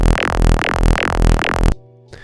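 Bass music growl pattern with added swing, a distorted synth bass pulsing in four rhythmic wobbling phrases, loud and alone, cutting off abruptly near the end.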